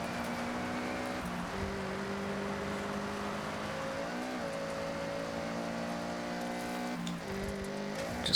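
A car driving in Forza Horizon 6, its engine droning steadily with pitch rising and falling through gear changes and revs, heard alone at a moderate, even level for several seconds.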